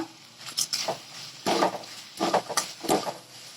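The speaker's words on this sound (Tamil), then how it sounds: "இப்போ எடுத்து வச்ச ஸ்பைசஸ் இதில் சேர்த்துக்கோங்க. இதை நல்லா வதக்கிக்கோங்க." A spoon stirring and scraping spices sautéing in a pan for channa masala, with several close clattering strokes against the metal in irregular bursts and a faint sizzle underneath.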